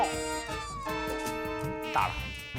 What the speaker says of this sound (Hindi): आपकी नाक में मच्छर है।